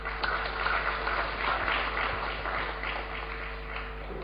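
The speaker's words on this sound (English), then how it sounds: "Can we put up our hands much better than we did for Rosa?" A conference audience at the opening session of Uganda Water Week claps steadily throughout, a dense, even patter of many hands in a large room, sustained without a break.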